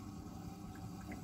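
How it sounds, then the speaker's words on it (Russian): Water runs and gurgles steadily into a washing machine drum during a shoe wash, a constant low rushing fill with faint sloshing, close by. "Так, все, набралась вода."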